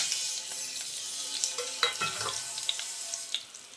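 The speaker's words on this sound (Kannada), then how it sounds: "ಎಣ್ಣೆಯನ್ನು ಕಾಯ್ಲಿಕ್ಕಿಟ್ಟಿದ್ದೇನೆ. ಈಗ ಇದಕ್ಕೆ ಜೀರಿಗೆ ಮತ್ತು ಉದ್ದಿನಬೇಳೆ ಅಂತ ತಗೊಂಡಿದ್ವಿ, ಇದನ್ನು ಹಾಕೊಳ್ತಿದ್ದೇನೆ." Cumin seeds and urad dal hitting hot oil for a tempering in mint rice, a bright continuous sizzle with small crackles and pops and a brief stir partway through.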